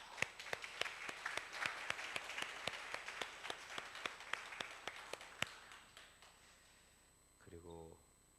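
A church congregation claps in greeting, a loose, fairly sparse round of individual hand claps in a hall that gradually thins out, followed by a brief voice at the end.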